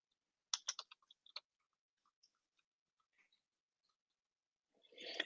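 Keys tapped on a computer keyboard: a quick cluster of soft, close clicks, then a few scattered single taps in a quiet room.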